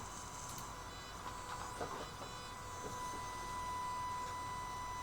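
A small fischertechnik model roller coaster motor runs steadily at slow speed, giving a faint continuous whir with a thin steady tone and light mechanical ticking throughout, no talking.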